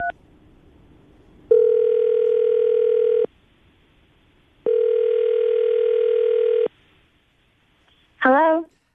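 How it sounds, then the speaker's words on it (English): A telephone call in progress: two long, even ringback tones sound about a second and a half each with silent gaps between them, then a brief voice answers at the end. "Tim, we're going to call her right now, get her on the phone"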